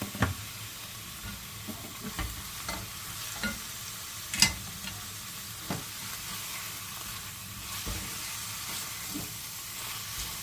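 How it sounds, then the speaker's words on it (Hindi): Ingredients for a béchamel sauce in a chicken pasta bake are stirred in a sizzling pan, with a faint constant frying hiss and scattered scrapes and clinks of a spoon against the pan at close range. "इसको अच्छी तरह मिक्स कर लें।"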